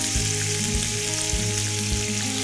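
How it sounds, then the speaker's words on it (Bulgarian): Food fries in a pan with no added fat, giving a steady close hiss of sizzling; faint tonal sounds sit underneath, and nobody speaks. "Трябва да запържим първо него, след това ще добавим малко от пресния чесън."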